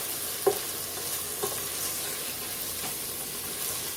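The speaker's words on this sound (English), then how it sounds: "Stir that in." Black pepper being stirred into hamburger potato soup in a pot, with a low steady simmer and sizzle and two or three soft spoon knocks against the side, close by, with no voice.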